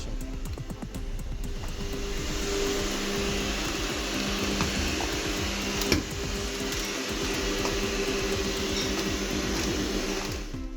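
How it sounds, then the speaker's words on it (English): A repaired LG 1800W vacuum cleaner runs with a steady, loud mechanical whirring hum, continuous with a rough, buzzing motor tone, nearby without pause. "I think I'll try to simulate working with a vacuum cleaner."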